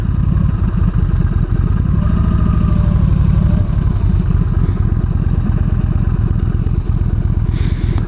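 A motorcycle engine drones loud and close with a steady, throbbing low rumble, the pitch shifting slightly as a bike rolls past.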